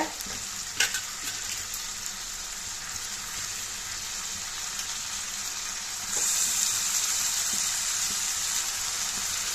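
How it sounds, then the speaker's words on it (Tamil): Steady sizzling of prawns sautéing over a medium flame in a hot pan without water, with occasional stirring clinks; the frying hiss grows louder toward the end. "இதை வந்து ஒரு மீடியம் ஃப்ளேமில் வச்சு இந்த மாதிரி நல்லா வதக்கி விடுங்க"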